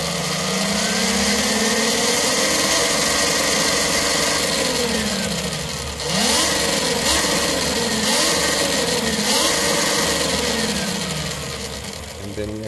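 A Talaria electric bike motor fitted with a power pedal kit whines and rises in pitch through several accelerations, each surge climbing and then easing back, loud and close, with a voice speaking over it.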